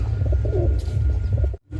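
Pigeons coo in a bird sale pen where a female Madrasi pigeon is kept, a steady low burbling that runs loud and close almost throughout, then cuts off briefly near the end.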